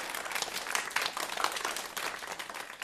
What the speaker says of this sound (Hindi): थोड़ा ताली बजाओ अपने लिए।